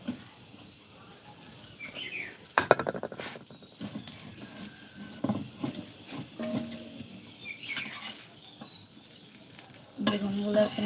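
Thick-cut vegetable slices fry in a hot pan, giving a steady soft sizzle broken by clattering strokes as they are stirred, with faint birdsong in the background.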